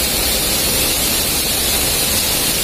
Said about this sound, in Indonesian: Ini ada pancuran boys and girls.